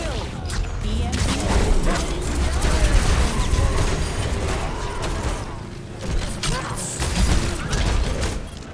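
Video game gunfire: a continuous dense barrage of shots and mechanical clatter running throughout, loud and busy, with no clear talk.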